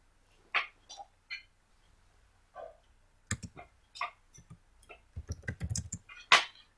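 Keystrokes on a computer keyboard while entering a search for the Google Site Kit plugin in WordPress, coming as sparse separate taps and then a quicker cluster of clicks, close and clear with no talking.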